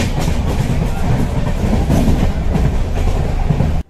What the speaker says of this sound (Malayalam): ഏകദേശം 11 മണിക്കൂറോളം നമുക്ക് ട്രെയിൻ യാത്രയുണ്ട്.